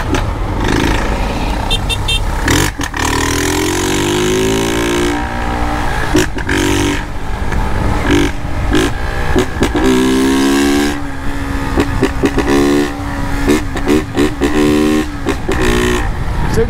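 A motorcycle engine revs and accelerates in loud, rising pulls with shifting pitch, interrupted by sharp bursts and brief gaps, heard close up throughout.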